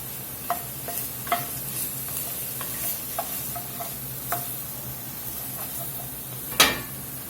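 Minced garlic and soy sauce sizzle steadily in a pan for a beef short rib ragu, with soft hissing broken by light scrapes of a stirring utensil and one sharper clink near the end.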